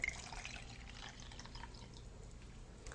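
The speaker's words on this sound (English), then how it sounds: "First, you fill the bottle with the sterilized water." Sterilized water is poured into a Tommee Tippee Closer to Nature baby bottle, a soft steady trickle and splash with faint drips, quiet and close.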